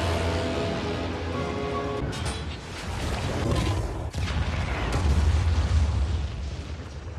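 A deep, sustained explosion rumbles loudly through a stop-motion Pinocchio film scene at sea, where a giant whale is mistaken for an island, with broad roaring noise swelling and surging over several seconds.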